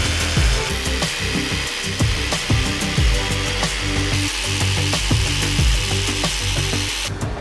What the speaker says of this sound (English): get the SDS, just drill them all out.